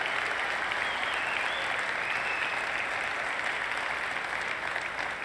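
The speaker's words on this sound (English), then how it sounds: "I am so pleased that you're applauding" An audience at a Sigma Chi fraternity 150th anniversary celebration applauding; steady, full crowd clapping at moderate distance that continues evenly throughout.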